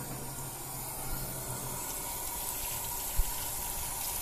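Cool tap water running steadily over freshly picked plantain leaves being washed in a colander, a continuous close hiss and splash with a small knock near the end.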